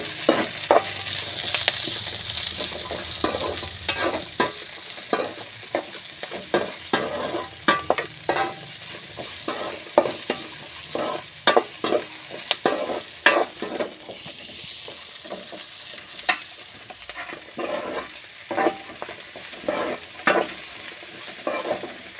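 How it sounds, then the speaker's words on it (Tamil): Broad beans fry in a pan for a Tamil-style poriyal, a soft continuous sizzle broken by frequent scraping stirs and clinks of a spoon against the pan, close and moderately quiet with no talking. "இதோட வந்து லைட்டாக உப்பு தூவி கிளறி விட்டுட்டுருங்க."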